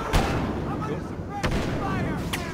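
Enemy blaster fire in Star Wars Battlefront, a few sharp loud shots spaced over a low rumbling battle background, with a voice heard faintly.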